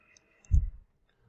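A single computer mouse click, soft and close, sounds once in an otherwise quiet room while a sticker design is edited for a Silhouette Cameo 3 cutter.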